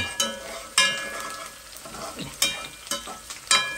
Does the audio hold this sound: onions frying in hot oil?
yes